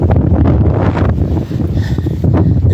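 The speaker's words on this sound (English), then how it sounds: "It's real windy today." Strong wind buffets the microphone on an outdoor hike. The rumbling gusts are loud and continuous throughout, with no voices.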